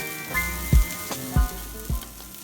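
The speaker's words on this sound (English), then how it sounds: "add some oil to your pan here. Make sure it is on high heat, and then you're going to dump your noodles in" Noodles dropped into hot oil in a pan over high heat for chow mein, crackling in a steady sizzle with three louder bursts as more noodles hit the oil, close and clear with no talk.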